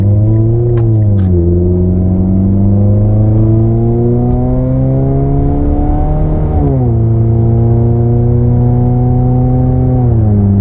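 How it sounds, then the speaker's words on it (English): An '08 Mazda 3 hatchback with a loud aftermarket exhaust revs up and settles back, its strong low exhaust drone rising and falling in pitch over several seconds, close and alone with no talk. "Now, this exhaust, it's loud, but once you let off the gas, it's not that bad."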